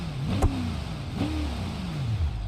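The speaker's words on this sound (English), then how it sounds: "I don't really like how it sounds with this custom exhaust either." A car in the BeamNG.drive video game, fitted with a custom exhaust, revs its engine in two rising-and-falling sweeps with a couple of sharp clicks, close and moderately loud with no voices.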